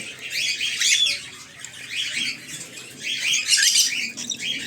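Albino cockatiels chirping in bright, overlapping bursts that swell and fade in waves, fairly close, with no talking.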